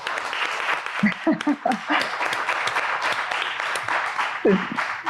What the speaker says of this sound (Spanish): vas a recibir un fuerte aplauso de la audiencia